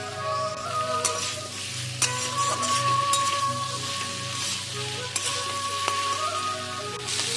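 Chopped capsicum and green chillies fry in a hot pan, a steady sizzle broken by the scrape and clatter of stirring, up close with no one talking.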